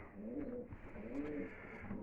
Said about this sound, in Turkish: Biraz uyğunlaşıb məndəki kuşlar